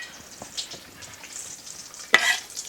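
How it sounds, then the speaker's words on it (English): Meatballs for a Sunday sauce sizzle and crackle as they hit a hot pan, a steady frying hiss with scattered pops and a sharp louder burst near the end. "I hear it starting to sizzle."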